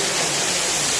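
A waterfall in the Seshachalam hills near Tirumala gives a steady close rush of flowing water, a brief broadband hiss with no talking.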